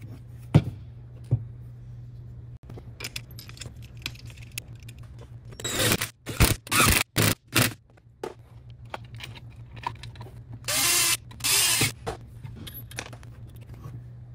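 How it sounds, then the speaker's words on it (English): Bolts on a 3-litre Marcos GT being tightened back in with a socket ratchet, heard as short clustered bursts of ratcheting clicks over a faint low hum in an otherwise quiet workshop. "Now I can put the bolts back in."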